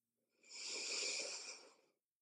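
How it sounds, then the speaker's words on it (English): A single slow, deep inhale through the nose during a gentle yoga flow, soft and close, swelling and fading smoothly over about two seconds in otherwise quiet surroundings. "Taking a nice big breath in through your nose"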